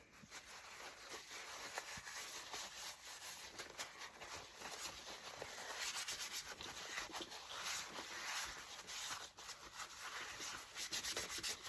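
Painted wood rubbed down with a cloth and Fusion clear wax, producing continuous soft, close rubbing and wiping strokes at low volume with no talking.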